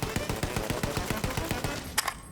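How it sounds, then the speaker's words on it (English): A Borderlands 3 gun fires rapidly in full-auto bursts, each shot carrying a saxophone-like tone, loud and close with a steady rhythm of about eight shots per second before a final couple of sharper blasts. "it plays a saxophone sound when shooting with it"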